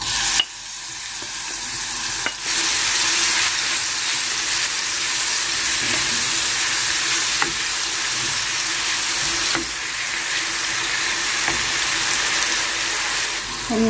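Onion drops into hot oil in a pan on a gas stove and sizzles loudly and continuously, a close, steady frying hiss with a few soft stirring scrapes.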